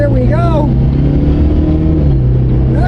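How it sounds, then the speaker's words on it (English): Rear-wheel-drive turbocharged car accelerating hard, a loud steady engine drone rising in pitch from inside the cabin, with a brief whistling whine early on; no speech. "That turbo kicks in. It's got a lot of power."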